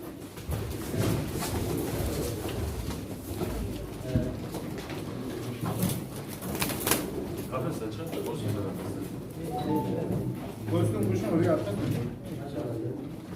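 Pigeons coo softly at a pigeon auction while people talk steadily over them, with some handling clatter and brief knocks among the voices.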